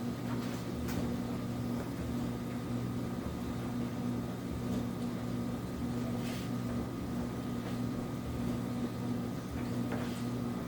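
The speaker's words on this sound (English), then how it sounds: "Our laundry room's over here to the left, and I don't know if that's the washer or the dryer." A washer or dryer runs steadily in a nearby laundry room, giving a constant low mechanical hum and rumble with a few faint knocks, and no voices over it.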